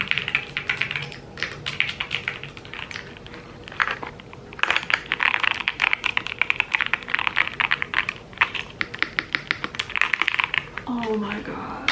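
Rapid clicking keystrokes on a computer keyboard at a writing desk, in bursts with brief pauses, close and crisp, while a person talks softly at times.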